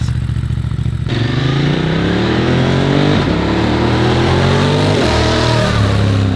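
A Ducati DesertX adventure motorcycle fitted with an HP Corse SP-1 EVO exhaust rides past, loud and close, its deep engine note rising steadily in pitch as it accelerates through gears, with no talk.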